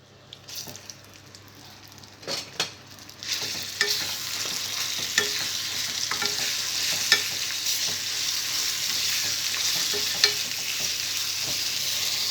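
Ground raw tamarind and peanut chutney is stirred into a frying tempering, producing a continuous hiss of sizzling oil with regular spoon scrapes and soft thuds, close and alone without talk.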